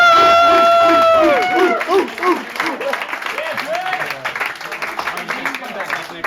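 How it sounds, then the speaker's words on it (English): A comedy club audience breaks into applause and cheers after a stand-up set, a burst of clapping and whoops following a fading tone, with crowd chatter mixed in throughout. "Big round of applause for David."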